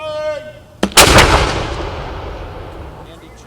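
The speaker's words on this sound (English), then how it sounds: "Pitt State ROTC marked the observance known as Patriot Day with cannon fire at 8:46 Eastern Time" A single booming cannon shot fired by Pittsburg State ROTC at an outdoor Patriot Day observance, with a sharp blast followed by a long rolling echo that fades slowly.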